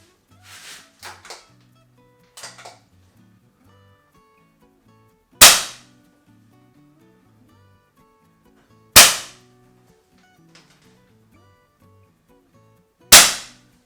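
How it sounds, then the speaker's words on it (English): Three CCI Quiet .22 rifle rounds fire outdoors over a chronograph, each a single sharp crack spaced several seconds apart, fairly loud but short, with faint clicks and handling noise between shots. "there is 10 rounds of CCI quiet over the Crony"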